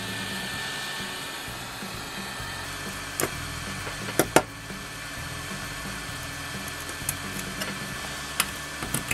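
A hot air tool set to about 330 degrees blows steadily while melting and softening a smartphone part, giving a constant hissing roar with scattered sharp clicks and taps.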